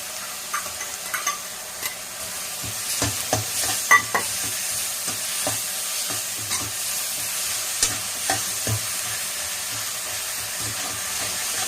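Onions sauté with salt in a pan for a kuzhambu. A soft continuous sizzle runs under repeated scraping and clattering stirs, close by, with no talking.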